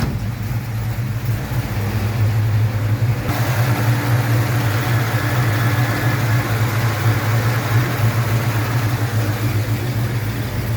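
LS1 V8 engine swapped into a 1970 Buick GS, idling hot: a steady, loud, deep rumble with an even low throb throughout, close to the car and uninterrupted.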